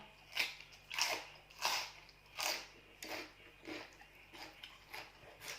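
Someone eats Korean instant noodles with fish cake, close-up, with soft rhythmic chewing and biting noises repeating about every half second in a quiet room.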